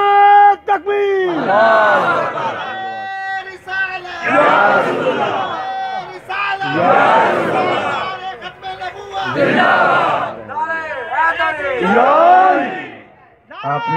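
A large crowd at a religious gathering chants Takbir slogans in loud, rhythmic call-and-response bursts, a leader's call answered by many voices roaring together, repeated about five times.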